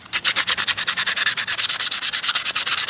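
Car door paint on a 1992–1995 Honda Civic is lightly scuffed by hand with 120-grit sandpaper in fast, even back-and-forth strokes, close and fairly loud, with no voices.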